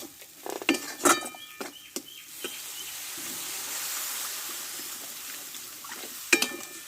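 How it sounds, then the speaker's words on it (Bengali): After a few clinks of stirring, water poured onto fried spice paste for a bata fish curry with mustard sets off a steady hissing sizzle that holds, then a final scrape. "দেখো মশলাটা কষে নিয়েছি ভালো করে পরিমাণ মতো জলটা দিয়ে দেবো"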